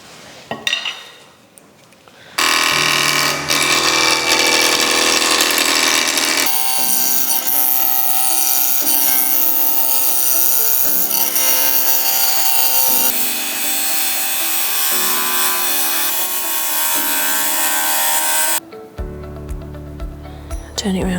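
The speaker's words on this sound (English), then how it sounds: "it's really important that we use a ball gouge for turning this" A wooden carving mallet blank spins on a lathe while a ball gouge cuts it, giving a loud, sustained scraping whir in long stretches broken by short pauses, with a person speaking at times.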